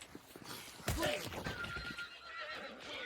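A horse in a video game lets out a loud whinnying neigh, followed by clip-clop hoof sounds and softer snorts.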